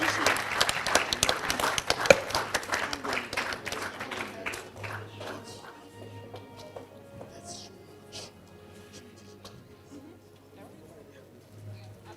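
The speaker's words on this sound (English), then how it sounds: "Please, a round of applause for her." Applause from an event audience starts loud and dense, then thins and fades over several seconds to scattered claps and quiet room noise.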